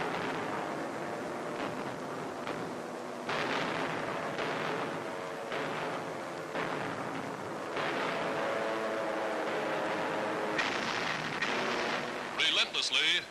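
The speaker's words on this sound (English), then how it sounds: "From the sky, American and RAF bombers blast the enemy across a 40-mile front, unleashing tons of high explosive on Rommel's surprised and reeling Africa Cor" Bombs from American and RAF bombers explode over a North African front in archival wartime footage, heard as a continuous rumbling barrage of heavy blasts that swells and recedes, with a narrator talking over it.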